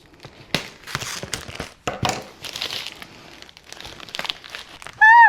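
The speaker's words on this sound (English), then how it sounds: "So let me get some scissors and we'll open this up together." Crinkling and tearing of cellophane packaging and a cardboard box being cut open with scissors, sharp crackles and cutting sounds up close, ending in a brief high-pitched squeal.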